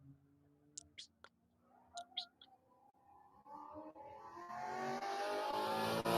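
A race car at speed on a lap of the Hastings track during the Tire Rack One Lap of America, its engine swelling from faint to a loud, close roar. A few sharp sounds come early, over a low background hum.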